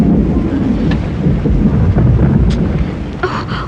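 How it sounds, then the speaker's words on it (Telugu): Steady rain falls with rolling thunder in the background, a dense continuous wash of sound that stays fairly loud throughout, with a few brighter crackles near the end. "వర్షం వస్తుంది"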